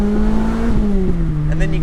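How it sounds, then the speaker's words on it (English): A Lotus Elise engine drones with a sharp, sport-bike-like tone through a rev-matched downshift, its pitch sliding gradually lower, loud and close with a voice talking over it. "This is a very sport bike sounding engine, like just those, like when you rev match downshift"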